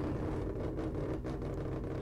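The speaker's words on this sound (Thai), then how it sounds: "เสียงรอบเดินเบาทุกคนฟังเสียงรอบเดินเบาครับ" A modded GT86 with a Pandem body kit idles in GTA San Andreas, its engine a steady, dense low rumble with a slight uneven throb that holds constant throughout.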